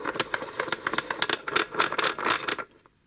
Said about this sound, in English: a little small inexpensive vise that rattles rather well by the sounds of things